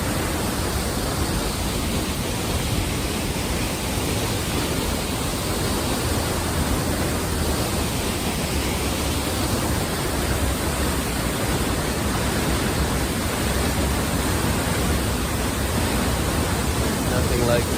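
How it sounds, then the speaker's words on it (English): Roaring waterfall, a loud unbroken wash of falling water heard up close, with no break across the whole stretch. "We'll get beat up by a waterfall."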